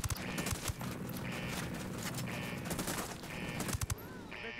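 Gunfire in the video game Ghost Recon Wildlands: rapid automatic bursts repeating in a steady rhythm under dense game noise, loud and close, with brief muffled voices in the mix.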